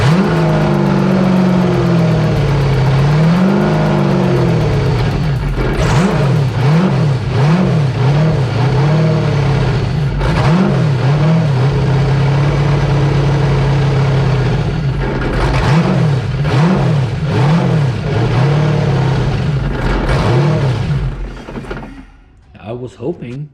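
A V8 jet ski engine runs on a hose after a new idle air control valve is fitted, a loud, close, rough idle that keeps surging and dipping in rhythmic waves before winding down at the end.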